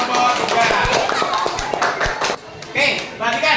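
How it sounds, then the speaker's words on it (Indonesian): A classroom of students applauds their classmates in group 3, a short burst of scattered hand claps that quickly fades as a teacher's voice carries on speaking over it. "Beri tepuk tangan untuk kelompok"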